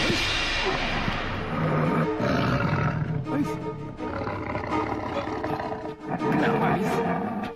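A tiger roars, loud and sustained, for several seconds in a dramatic TV scene of a man turning into a tiger, with whooshing and thudding effects layered underneath.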